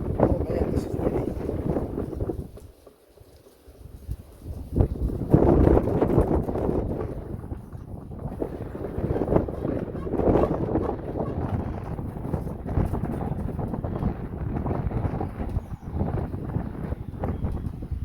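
Gusty outdoor wind buffeting the microphone during boat swim platform work, a loud rough rush that drops briefly then returns and stays steady.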